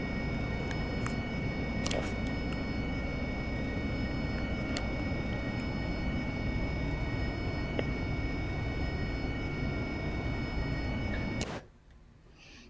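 Jet aircraft engine in the flight simulator game DCS during a night carrier mission: a steady whining drone with a few faint clicks, cut off abruptly near the end.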